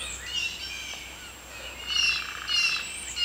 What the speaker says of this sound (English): the birds are loud today